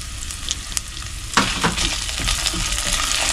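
Dried red chillies frying in hot oil for a methi seed dhal: a steady close sizzle, with a sharper burst of crackle and stirring partway through, and no voices.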